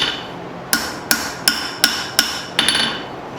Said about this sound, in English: I'm just going to come here on the edge of the anvil.